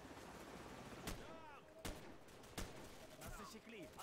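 Bursts of gunfire in the video game Call of Duty 4: Modern Warfare, three sharp loud shots spaced about a second apart with scattered pops between, while a voice shouts orders over the firefight.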